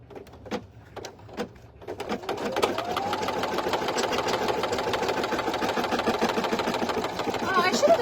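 An embroidery sewing machine stitches an in-the-hoop sleep mask. A few sharp clicks come first, then a steady, rapid, mechanical stitching hum runs loud and close until the end.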